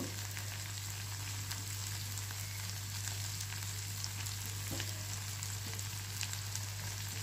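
Melted butter spooned over frying chicken reshmi kabab makes a faint, steady sizzle and crackle in a pan, with a constant low hum running underneath and no voices.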